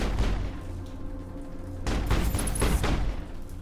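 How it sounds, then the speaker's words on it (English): Gunfire in the Mass Effect video game, a loud burst of rapid shots and booms that swells midway, dense and close. "Wait, I literally don't understand where those gunshots are coming from."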